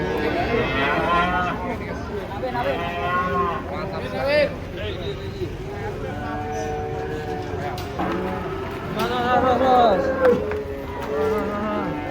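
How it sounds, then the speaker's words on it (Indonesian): A herd of large cattle comes down off a truck, with repeated loud moos and lowing over clattering and general commotion, while people talk throughout. "Rombongan sapi datang."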